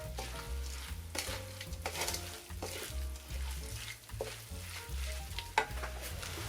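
Chicken, shiitake mushrooms and sausage cook on high heat with mushroom soaking liquid, a lively close sizzle and bubbling with intermittent stirring scrapes and clicks against the pan.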